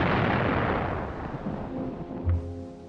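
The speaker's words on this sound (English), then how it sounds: "After a heavy artillery bombardment" A heavy artillery bombardment rumbles as a dense, loud barrage that slowly fades, with a final deep boom near the end, from archival World War II footage of the German attack on the Maginot Line.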